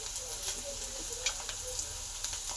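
Onion frying in a pan until soft for a radish-pod vegetable dish, giving a soft, steady sizzle with light stirring scrapes, close but quiet.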